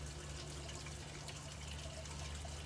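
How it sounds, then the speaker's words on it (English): Water poured gently from a small watering can onto newly planted succulents gives a faint, continuous trickle over a low background hum, with no speech. "really this small watering can is sort of the perfect tool just to get these settled in, give them the water they need"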